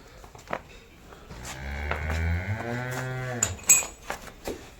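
At a livestock sale of a heifer and freshly calved buffaloes, one bovine gives a single long, drawn-out low moo, surrounded by faint shuffling and a few clicks.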